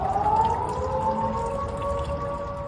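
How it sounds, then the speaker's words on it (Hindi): Air raid sirens wail over Tehran after an Israeli strike, two steady sustained tones droning continuously at moderate distance with a rough rumbling background and no voices. "इजराइल के हमले के बाद तेहरान में दहशत के सायरन बजने लगे"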